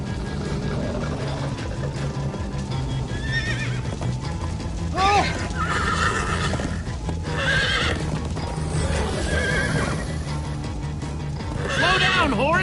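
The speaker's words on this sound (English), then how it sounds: "Slow down, horse!" Horses in the Minecraft: Story Mode video game whinny repeatedly over rapid clip-clop hooves as they gallop, several loud neighs rising above the steady pounding and game sounds.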